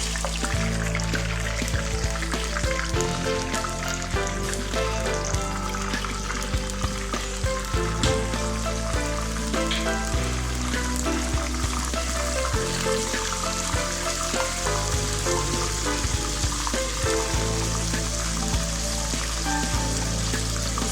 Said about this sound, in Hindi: तेल मेरा गर्म हो गया था, इसमें ये लहसुन अदरक डाल दूँगी। इसे थोड़ा सा ब्राउन करूँगी।